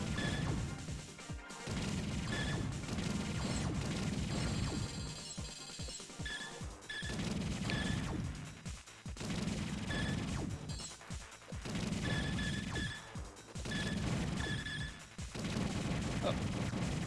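Rapid laser turret fire from the shmup Mars Matrix, a dense, loud barrage of crackling blasts and crashes with sharp bursts repeating throughout, packed together with little pause.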